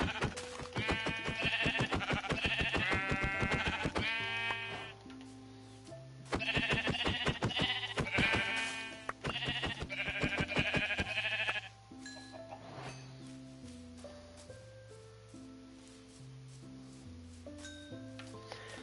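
Sheep in the Minecraft video game bleat repeatedly, with dense, loud bursts of bleating through the first dozen seconds, then quieter, sparser calls toward the end.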